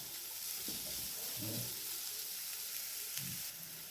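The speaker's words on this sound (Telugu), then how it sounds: "వేసుకొని వేయించుకోవాలి ఇదిగో చూడండి ఇది వేగరమే అయిపోతుందండి వేగ్రమే వేగిపోతుంది చూడండి" Vegetable burji with chopped ginger frying in a pan, giving a steady, even sizzle with a few soft stirring scrapes near the middle and end.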